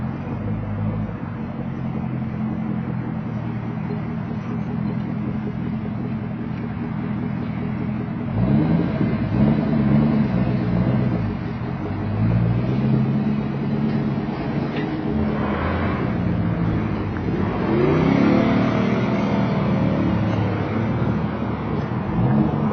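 A car fitted with new tires is driven out of a tire shop, its engine rumbling steadily and then revving up louder in two surges partway through, close by with no talking.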